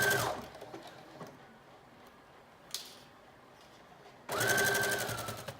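A sewing machine runs a narrow zigzag stretch stitch along the side seam of a mermaid prom dress bodice, a steady whirring burst at the start, a quiet pause, then a second loud, sustained run near the end.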